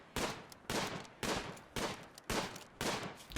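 Gunfire in the video game RimWorld: six evenly spaced bursts of rapid shots, each a loud broadband crackle lasting about half a second, separated by brief gaps, with no talking.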